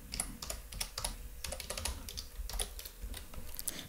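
Fingers tap quick, uneven bursts of keystrokes on a computer keyboard, close and clear, with a few heavier key presses standing out.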